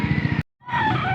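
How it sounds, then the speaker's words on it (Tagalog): Roosters and chickens at a poultry auction in Angeles, Pampanga, with crowing and clucking birds filling the air, a short silent gap splitting two loud, dense bursts of fowl calls. "Nandito na naman tayo sa bintahan ng mga manok."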